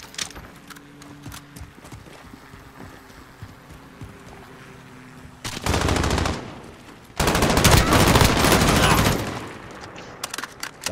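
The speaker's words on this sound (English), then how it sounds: "the 725 still kills so far away." 725 shotgun in Call of Duty Modern Warfare, two loud sustained bursts of close gunfire roughly a second or two apart, each several seconds long, over quieter in-game ambience.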